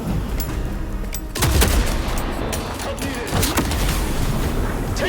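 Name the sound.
gunshots in video game Vampire the Masquerade Bloodlines 2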